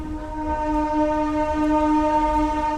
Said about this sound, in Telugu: ట్రైన్ వచ్చేసి కొండగుంట నుంచి అయితే బయలుదేరిపోయింది.